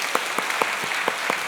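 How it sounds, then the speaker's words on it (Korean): Church congregation applauding during a worship service, a brief burst of many hands clapping with a few distinct sharp claps standing out, steady and close. "우리 아버지 하나님께 감사 박수 올려드리겠습니다"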